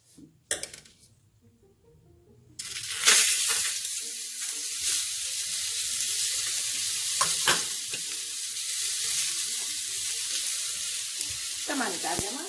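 Salmon sizzles in a hot pan alongside mushrooms and peppers, a loud, steady broadband frying hiss that bursts in after a few quiet seconds and continues, broken by occasional clinks and stirring knocks.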